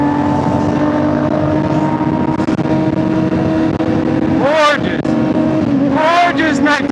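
Honda CBR600RR motorcycle ridden at night, a constant loud engine roar with wind rush from the rider's position and a couple of rising revs near the end, with someone talking over it.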